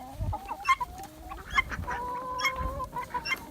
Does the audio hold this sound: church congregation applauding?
no